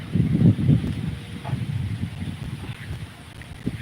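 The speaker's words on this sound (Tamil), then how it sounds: "அருமையான காற்று, சூப்பர், நல்லா இருக்கு." Wind blowing outdoors buffets a microphone, giving a steady low rumbling roar with stronger gusts early on and no voices.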